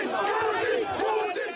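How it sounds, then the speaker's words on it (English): Crowd of military coup supporters outside the French embassy in Niger chanting President Putin's name, a loud, dense mass of voices in rhythmic, repeated cries, close and continuous. "Some chanted President Putin's name."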